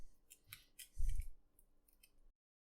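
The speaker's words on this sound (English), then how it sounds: "And I'm peeling directly into my scraps bowl." An onion is peeled by hand over a scraps bowl, with close, crisp crackles and small snaps of papery skin, one louder rustling thump in the middle, then silence.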